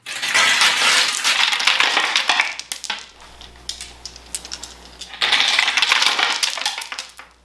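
Dice clatter down through a 3D printed street lamp dice tower, two bursts of rattling, bouncing plastic clicks about five seconds apart with a quieter lull between, close and crisp.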